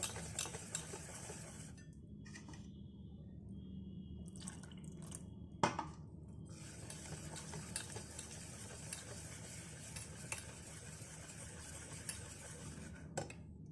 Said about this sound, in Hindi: अच्छी तरह मिक्स करके इसका बैटर तैयार करेंगे।